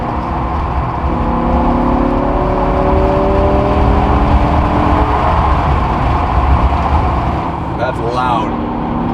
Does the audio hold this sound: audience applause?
no